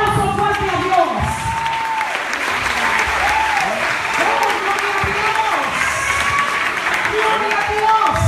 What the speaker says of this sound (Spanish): Dale un aplauso fuerte a Dios.